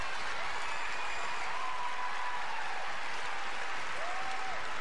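Crowd applause at a women's artistic gymnastics all-around final in Birmingham, a broad steady wash of clapping filling the arena at moderate volume, continuous for the whole stretch with no talk over it.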